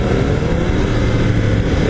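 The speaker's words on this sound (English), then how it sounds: "sounds so good even with the stock exhaust" New 2015 Yamaha R1M motorcycle with its stock exhaust: a loud, close, steady engine drone with a rough low rumble, holding at a constant pitch without talk.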